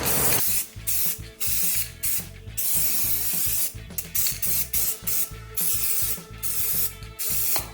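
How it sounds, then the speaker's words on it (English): An aerosol spray can hisses in repeated bursts, short and long, close up, spray painting open-face car wheels, broken by the rattle of the can, with no one speaking. "these are pretty open face wheels, so I can just kind of spray away"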